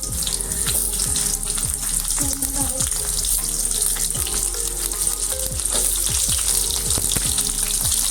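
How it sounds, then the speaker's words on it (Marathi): Stuffed brinjals for Maharashtrian masala vangi dropped into hot oil, with a loud, continuous close sizzle and bubbling crackle, broken by occasional sharper pops and a handling clatter. "आता आपलं तेल तुम्ही पाहू शकता प्रॉपरली तापलेलं आहे त्यामध्ये आपण हे भरलेले जे वगैरे आहेत ते अशा प्रकारे"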